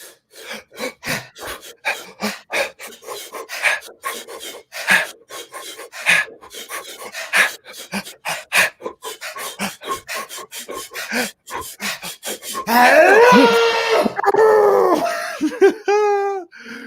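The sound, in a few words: guided deep breathing in and out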